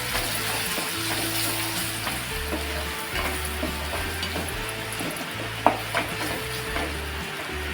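Turmeric, garam masala and homemade spice mix are stirred in a frying pan with sizzling oil. A steady close hiss runs beneath repeated scraping strokes, with a sharp clink of utensil on pan partway through.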